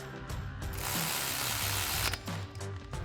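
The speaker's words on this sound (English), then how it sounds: "we'll tighten that down with our 12mm socket on our ratchet" A ratchet with a 12mm socket tightens a bolt on a Toyota Tundra steering knuckle during a suspension lift install, giving a steady close clicking buzz for about three seconds with brief pauses.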